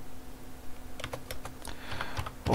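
Keys clatter on a computer keyboard in a short burst of quick, uneven taps that start after about a second of quiet room hum, close and moderately loud.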